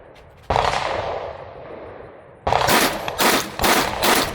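A VR-80 semi-auto shotgun firing 7.5 shot rounds, one loud close blast followed by a rapid string of several more, the reports ringing out outdoors with no talking.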